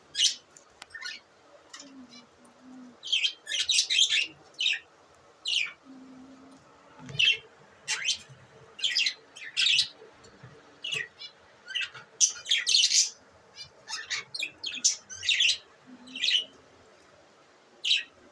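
Pet budgerigars chirp and tweet in quick, bright bursts throughout, fairly close, with short pauses between clusters of calls and a faint low hum underneath.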